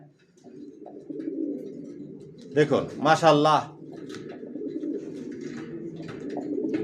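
Young racer pigeon chicks coo close by, a short burst of soft throaty calls in the middle over a low steady hum, while someone talks quietly around them.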